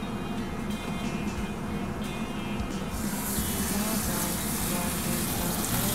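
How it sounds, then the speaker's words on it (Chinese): Chicken thigh pieces fry in a hot flat pan with a little oil, giving a steady, loud, close sizzle that grows brighter and more intense partway through. "我哋就將呢啲雞髀肉咧就擺落去煎一煎佢嘅"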